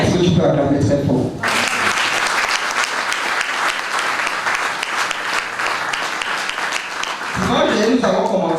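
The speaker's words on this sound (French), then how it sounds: "Est-ce que tu peux acclamer très fort?" A church congregation at a Sunday sermon breaks into loud, sustained applause and cheering lasting several seconds, dense and close, with a speaking voice heard before and after the clapping.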